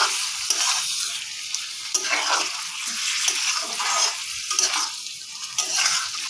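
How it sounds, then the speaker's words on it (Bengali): Chicken stirred into lightly browned onions in a hot pan, loud continuous close sizzling broken by repeated scraping stir strokes, without speech. "এখন এর মধ্যে আমি দিয়ে দেবো চিকেনটা। চিকেনটা দিয়ে একটু মিশিয়ে নিচ্ছি।"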